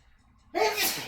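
A single sharp sneeze bursts out close to the microphone after a moment of near silence.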